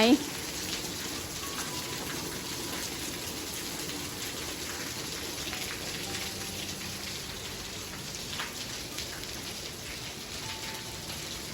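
Steady rain pours down in a constant, even hiss that continues throughout, with faint voices now and then beneath it.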